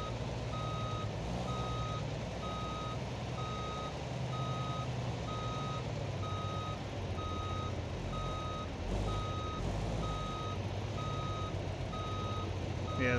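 A truck's reversing alarm beeps in a steady, evenly spaced series while backing a trailer in BeamNG.drive, the tones riding over a continuous low engine rumble throughout.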